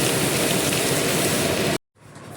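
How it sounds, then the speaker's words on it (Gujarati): Heavy rain falls in Ahmedabad with a loud, continuous hiss of drops hitting surfaces, then cuts off abruptly into near silence before a faint background returns. "અમદાવાદમાં ભારે વરસાદ."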